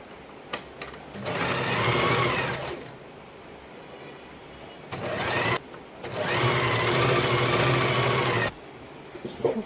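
A sewing machine stitches a fall onto a saree in two long runs, a fast, close whirring chatter that starts and stops with short pauses and clicks between bursts.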